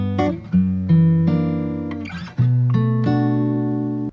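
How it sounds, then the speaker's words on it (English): Clean, dry guitar with no effects plays a short lofi phrase of sustained chords and notes, each attack ringing out and decaying, loud and alone with no voices. "guitar without any effects."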